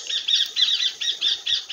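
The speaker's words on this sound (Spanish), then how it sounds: "Espero un momentito que me voy a hacer cargo de esos pájaros." Birds squawk in a steady series of about seven harsh, rhythmic calls, fairly loud and alone with no talk over them.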